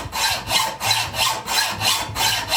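Hacksaw cutting a small piece of steel for a lathe cross-slide T-nut, close and loud, with about six quick, even back-and-forth strokes in a steady rhythm and no talk.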